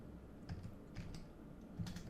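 Light typing on a computer keyboard, a few soft, sparse keystrokes close by over a faint background hum, with no talking.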